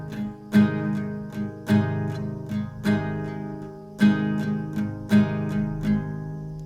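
Acoustic guitar strummed in repeated strokes, each chord ringing out before the next, in an even, slightly irregular rhythm with no voice.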